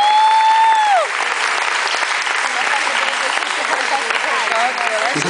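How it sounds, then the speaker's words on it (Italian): Steady applause from an audience at an evening show fills the whole stretch, dense and even, while a high sustained whistle-like tone rings out at the start and a voice cries out faintly over the clapping near the end. "Un applauso"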